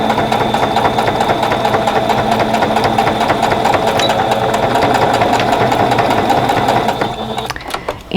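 Sewing machine stitching heavy fabric for a needle case runs steadily and loudly up close with a fast, even mechanical hum and needle rhythm, then slows and stops near the end.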